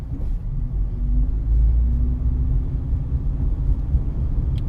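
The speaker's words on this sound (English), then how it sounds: "it almost sounds like it's running high in the RPMs when it shouldn't be" A 2012 Mitsubishi Outlander Sport ES with a CVT transmission holds high engine revs while driving, a continuous low droning rumble with a faint rising whine, steady road noise throughout.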